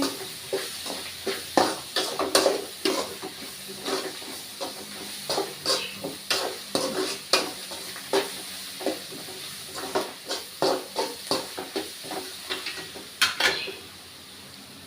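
Egg rice with cabbage and onion is stirred and fried in a pan, a close, busy rhythm of spatula scrapes and clatters over a constant sizzle, with no talking.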